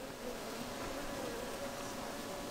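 Honey bees hum in an opened hive during an inspection of a colony with a high mite load, a steady, even, close-up drone with no breaks.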